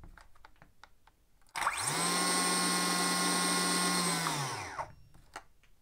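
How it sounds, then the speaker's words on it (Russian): A Makita DUC356 cordless chainsaw on its high-power setting revs up sharply and runs at a steady high-pitched whine for about three seconds, then winds down, with faint clicks before and after. "Включим пилу на мощный режим."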